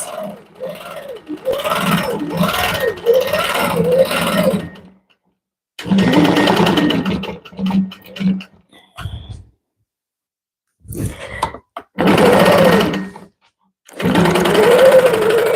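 A quilting sewing machine stitches in the ditch in several loud, close bursts of rapid mechanical whirring, each stopping and starting, with silent gaps between the runs.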